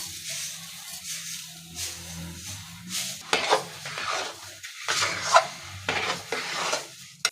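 Chana dal halwa being stirred in a pan with a spoon, producing scraping, rasping strokes over a soft sizzle, repeated irregularly and fairly close, with no talk.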